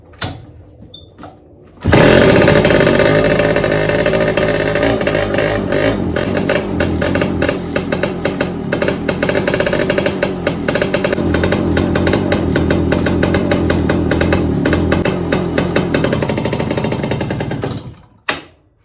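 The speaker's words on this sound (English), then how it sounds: "I'll start this bike up, and I'll show you how bad it sounds." A motorcycle with a fault coughs and catches, then runs rough and uneven, its loud, irregular popping and chugging carrying on steadily before the engine cuts out at the end.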